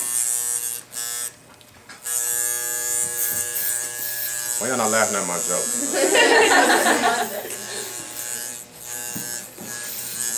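Electric hair clippers cutting hair for a skin-tight fade, a steady close buzz running throughout, with someone talking over it and some laughter.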